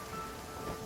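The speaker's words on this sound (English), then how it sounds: "It's raining." Steady rain hisses evenly in the video game Genshin Impact during the Lantern Rite event, a short continuous wash of falling water with nothing else over it.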